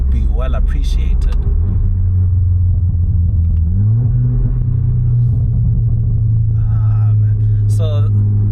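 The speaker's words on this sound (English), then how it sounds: "So the car also has a burble tune, but it's not one of those annoying ones where it's just constantly burbling away." A tuned Stage 1+ VW Polo GTI with a burble tune rumbles deeply and steadily from inside the car, its low engine drone rising slightly in pitch partway through, with faint crackles and a few small clicks near the end.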